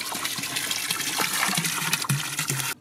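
A Parkside PTPK 400 W submersible clear-water pump pushing water through a hose, a loud continuous rushing gush close by that stops abruptly at the end.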